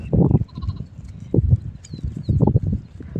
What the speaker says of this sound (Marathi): तुम्ही बघू शकता आपली मेंढ्या पाणी पाजायला लागली